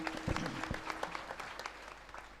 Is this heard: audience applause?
yes